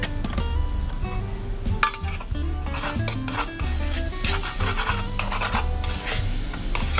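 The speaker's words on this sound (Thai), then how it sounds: "ก็ให้คนๆแบบนี้นะคะ คนๆให้ตัวเบกกิ้งโซดาเนี่ยเขาเคลือบเคลือบทั้งหมด ในจุดที่มันไหม้นะคะ" A utensil stirs baking soda around the bottom of a burnt cooking pot, giving close, continuous gritty rasping and scraping with light metallic clinks, fairly loud and steady for several seconds with no speech.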